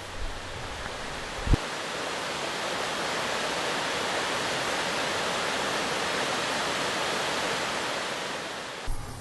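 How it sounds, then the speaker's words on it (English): A waterfall pours down a steep head wall in a mountain valley, a constant broad rushing hiss that stays loud and even, with a couple of faint knocks nearby. "a head wall with a waterfall coming down it"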